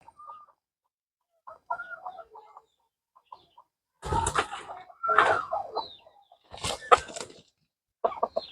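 Chickens on a poultry farm cluck in short, irregular bursts, some near and fairly loud and others softer, with brief quiet gaps between them.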